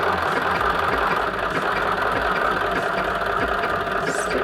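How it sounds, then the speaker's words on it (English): A sewing machine stitching around the indentation of an Aster & Anne Rory satchel, a steady close mechanical whir and rapid rhythmic needle clatter running evenly without pause. "Stitching around until we get to the other side."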